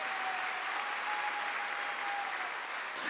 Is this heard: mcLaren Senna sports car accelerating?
no